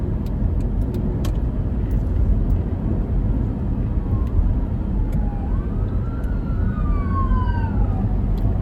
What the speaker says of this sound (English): oh, hold on, there is an ambulance